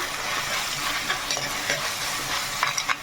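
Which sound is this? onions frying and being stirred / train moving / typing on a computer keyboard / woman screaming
onions frying and being stirred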